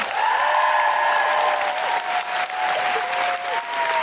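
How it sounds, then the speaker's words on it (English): A podcast audience applauds a guest with loud, continuous clapping and some whistles and cheers, filling the whole clip. "Big round of applause for Charlotte Keatley."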